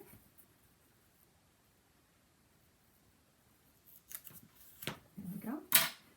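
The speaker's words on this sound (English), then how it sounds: "I think I'll cut that now." Scissors cut album base material in a few crisp snips and rustles near the end, after a long, nearly silent stretch.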